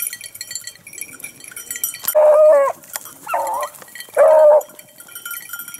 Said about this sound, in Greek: Ποιος γάβηξε εκεί?